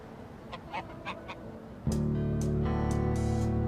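A goose honks several times: short, separate calls come first over a quiet background, then a loud, steady droning tone takes over and more honks sound above it.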